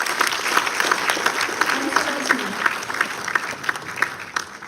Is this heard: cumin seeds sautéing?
no